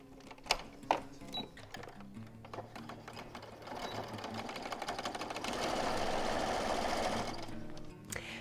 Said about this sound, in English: we're just going to sew straight down that one side